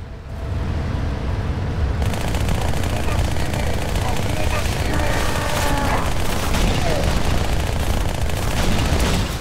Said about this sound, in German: Dieser Beschuss! Am Ende ging das richtig ab.